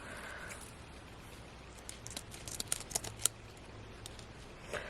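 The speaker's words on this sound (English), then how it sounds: "And then we're just going to trim off the sides" Scissors trim tape off the sides of a jar gift: a quiet room tone, then a short cluster of soft, crisp snips and tape crinkles, close by and faint.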